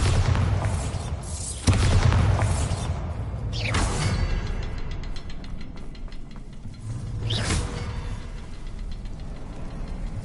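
Bombarda blasting spells go off in Hogwarts Legacy, three booming explosions a couple of seconds apart, each a sharp blast followed by a rumbling, crackling decay over a continuous low background drone.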